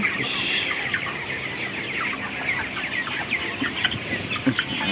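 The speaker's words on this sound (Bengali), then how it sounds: "বাকি মুরগি দেখতে পাচ্ছেন আছে" A crowd of broiler chickens on a poultry farm clucks and chatters continuously, many overlapping close calls with occasional louder squawks and no talking.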